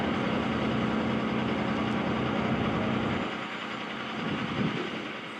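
A Cummins diesel drag-racing truck with an air-shifted Lenco transmission idles loudly and close by, a steady heavy rumble that eases slightly partway through, with no talk.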